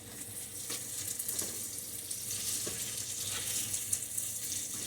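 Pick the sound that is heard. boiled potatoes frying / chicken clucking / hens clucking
boiled potatoes frying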